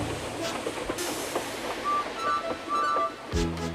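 A train rolls along with rhythmic rumbling and faint squeals, a story sound effect for the steam engine Edward pulling coaches, ending in a low heavy thump.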